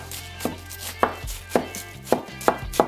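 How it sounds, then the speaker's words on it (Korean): Knife chopping cabbage into squares on a cutting board, six sharp close thuds at a steady, slightly uneven pace with no talk. "양배추는 정사각형 모양으로 먹기 좋은 크기로 썰어주세요"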